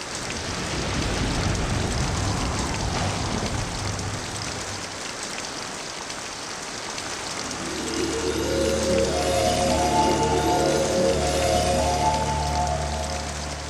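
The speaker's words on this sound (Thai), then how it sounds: "ตลอดสัปดาห์นั้นมีฝนตกพรำตลอดเวลา" Steady rain falls in a continuous, even hiss of drops on surfaces, later joined by soft sustained musical tones underneath.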